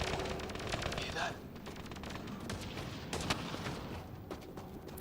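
Rapid gunfire from a Mass Effect Andromeda firefight, with dense bursts of shots running through the whole stretch and a louder crack at the end, with voices audible underneath.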